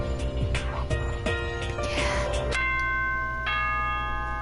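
School broadcast chime in the Danganronpa video game, a tonal bell-like two-note ding-dong ringing out over a steady background hum, then sustained tones that fade.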